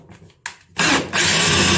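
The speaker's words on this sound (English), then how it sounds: "With mine, I just use a drill." A power drill drives a screw while a tap washer is being replaced, whirring loudly in two close bursts after a couple of short clicks, with no talk.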